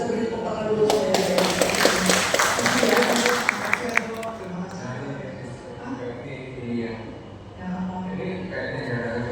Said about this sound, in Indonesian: Kita beri tepuk tangan dulu ya